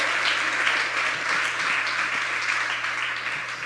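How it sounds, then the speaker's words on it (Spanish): Church congregation applauding Jesus during a Sunday sermon, a dense, steady wash of many hands clapping at moderate distance, continuous for several seconds with no speech over it. "Aplauda a Jesús por eso"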